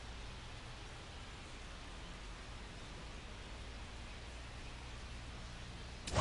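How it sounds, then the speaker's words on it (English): Steady rain pours down on a night baseball game between the San Diego Padres and Washington Nationals at Nationals Park in MLB The Show 25, a constant even hiss with no voices, ending in a brief louder burst. "MLB The Show brings you baseball on a rainy night"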